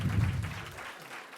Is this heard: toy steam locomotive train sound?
no